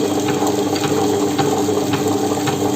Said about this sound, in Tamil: உளுந்து சேர்க்கும் போது கொஞ்சம் கொஞ்சமாக நம்ம தண்ணி போட்டு நம்ம வந்து சேர்த்துக்கணும்